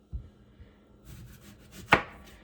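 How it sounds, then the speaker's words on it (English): Onion being chopped with a knife on a cutting board while making Instant Pot spaghetti, giving a few sparse, moderately loud knife strikes spread across a couple of seconds, with one sharp louder chop near the end. "And while that's heating up here, I'm going to chop our onion."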